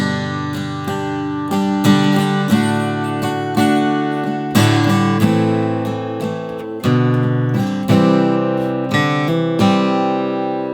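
Acoustic-sounding guitar strums and picks the opening chorus bars of a song, with repeated ringing chords in a steady rhythm, close and unaccompanied.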